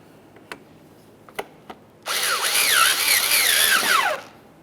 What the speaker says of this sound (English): We'll make our way right through here with our Phillips head.